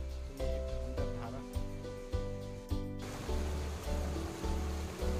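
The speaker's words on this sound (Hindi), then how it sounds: "तो आप सुन सकते हैं कलकल की आवाज़ यहाँ पर आ रही है" A waterfall rushes and splashes continuously over rocks, a steady flowing roar with small surges, close by.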